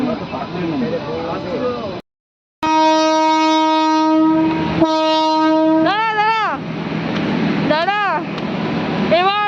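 A crowded train at Bolpur station rumbles past with long, loud blasts of its horn, then several shorter wavering honks, with voices talking underneath.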